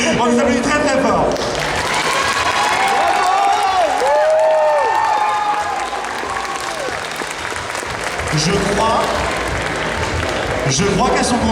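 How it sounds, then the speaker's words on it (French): Loud, sustained audience applause with some cheering fills a cosplay competition award ceremony at a fan convention, as the crowd claps for prize winners while an announcer's amplified voice talks over it throughout. "On les applaudit très fort."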